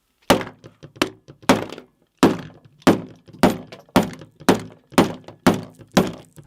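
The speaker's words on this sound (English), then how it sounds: "Only after 50 hits from my ridiculously large pliers do we see that indeed there is a thin layer of glass on the surface" Large metal pliers strike the glass-topped screen of a Nintendo Switch 2 again and again, about a dozen sharp, loud close-up thunks in a steady rhythm, each ringing out briefly with a faint rattle, and no voices.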